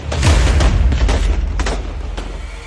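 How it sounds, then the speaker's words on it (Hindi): Bomb explosions mixed with bursts of gunfire in the Syrian war, loud and rumbling, with several sharp cracks punctuating the continuous low thunder. "बम धमाके, नॉन स्टॉप गोलीबारी"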